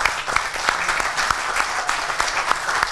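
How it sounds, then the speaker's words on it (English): Applause at a school board meeting honoring a championship team, a loud, close crowd of hands clapping with distinct individual claps audible in a continuous burst. "Let's give them a round of applause."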